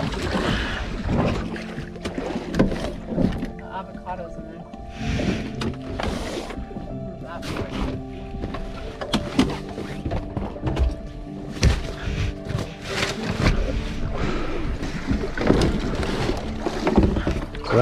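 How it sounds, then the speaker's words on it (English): Water sloshes and spills into the engine well of a small boat while it is being refueled, a steady wet splashing with occasional hollow knocks against the hull, close by, with someone talking over it. "and that's the water spilling in."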